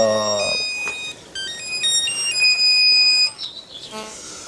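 A telephone ringtone plays a bright electronic melody of steady beeping tones for about three seconds, loud and close, then cuts off as a voice briefly answers in a quiet room.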